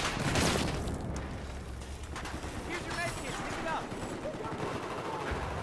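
Gunfire in the multiplayer shooter Battlefield 4 rattles on in rapid bursts and scattered shots, some close and some more distant, under a player talking throughout.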